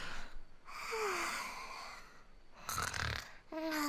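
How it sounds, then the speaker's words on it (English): A Genshin Impact character snores loudly in drawn-out, rasping breaths, several in a row with gaps between them and a short snort near the end. "That snore was so accurate"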